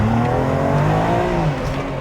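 A 600 WHP BMW N54 car with a DCT gearbox launches hard at a no-prep eighth-mile drag race, its engine roaring loud and close with rising harmonic tones as it pulls away steadily for two seconds.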